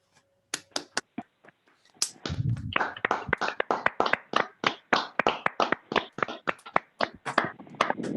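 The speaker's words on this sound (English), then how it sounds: "give our incredible panel an old-fashioned round of applause" Scattered claps and finger snaps from online call participants unmuting to applaud a panel, starting as a few isolated sharp hits and then building into a steady run of individual claps, fairly close and dry, with no talking.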